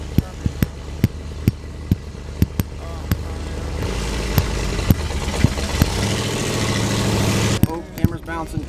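Engine of a Bullnose Ford truck riding on 42-inch Super Swampers, heard from inside the cab: a steady mid-pitched drone with repeated sharp knocks and rattles as the truck bounces, swelling then easing, with voices talking over it.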